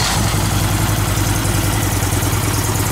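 A motorcycle engine fitted with a Thundermax Auto Tune system idles loudly and close up on a cold start, a steady low throbbing rumble with no talking.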